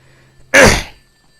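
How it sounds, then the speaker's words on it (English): One short, harsh throat clear close to the microphone, surrounded by near silence. "Sorry, I had to clear my throat there."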